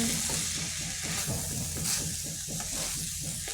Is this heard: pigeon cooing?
no